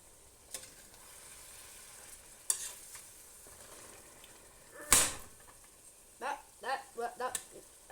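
Dry pasta snapped in half and dropped into a pot of boiling water: a few sharp cracks and clacks, one loud, then a patter of soft clinks and splashes over a quiet bubbling background.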